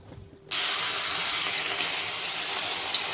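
Cauliflower pakora batter dropped into very hot oil in a wok bursts into a sudden, steady sizzle about half a second in and keeps hissing close and loud with no talking.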